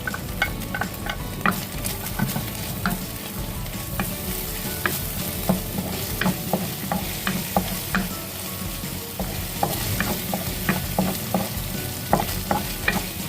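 Ginger frying and being stirred in oil in a pan, a steady bright sizzle with repeated scraping clicks of a utensil throughout, close and fairly loud with no voices.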